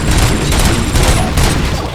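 A loud burst of rapid gunfire from the Robocop: Rogue City video game, dense overlapping shots for about two seconds, close and heavy.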